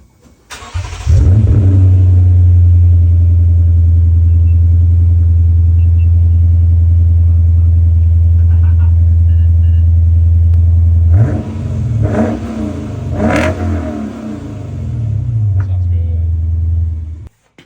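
A Lexus IS500 with an RR-Racing Bazooka axle-back exhaust, valve open, starts with a loud deep idle that holds steady, then a few sharp revs near the end.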